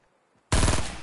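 Loud, close burst of rapid automatic gunfire from a shooter video game, erupting abruptly after near silence and sustaining as a dense rattle.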